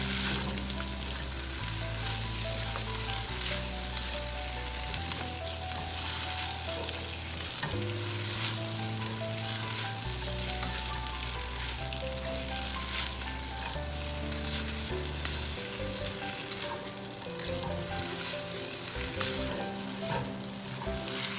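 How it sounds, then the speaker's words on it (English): Stir-fried pad thai with Gulf shrimp, scallions and bean sprouts sizzles steadily in a hot pan, with stirring scrapes over continuous background music. "And let's add our scallions and our bean sprout. And just stir."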